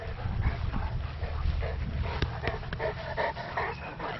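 An eleven-year-old dog pants in quick, steady breaths close by, with a few high, thin whimpers breaking through near the end.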